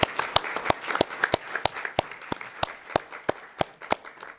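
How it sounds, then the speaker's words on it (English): Scattered, uneven hand claps from a small group at a school board of trustees meeting, each clap crisp and distinct rather than blending into a roar, continuing steadily for a few seconds with no talking. "I do want to take a moment to give them a round of applause for working so hard"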